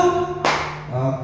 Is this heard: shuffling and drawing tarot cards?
no